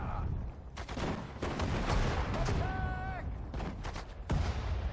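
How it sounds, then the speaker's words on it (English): Mortar shelling on an enemy position in the Sudden Strike 4 strategy game: a run of loud booming impacts and blasts, dense and layered, with a brief whistling tone partway through and some speech mixed underneath. "Now we can start shelling it with our mortar."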